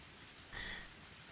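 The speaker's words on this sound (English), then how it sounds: "Its surface was being pummeled by the downpour" Heavy rain pummels the surface of muddy swamp water in a steady, dense broadband hiss that swells briefly midway, with no voices over it.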